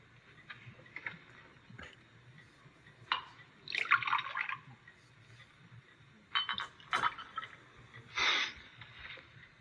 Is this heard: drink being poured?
yes